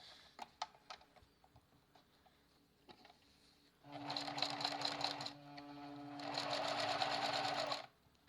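After scattered faint clicks and handling taps, a sewing machine runs in two close bursts of rapid rhythmic stitching, separated by a brief pause, stitching fabric pockets that hold metal pieces.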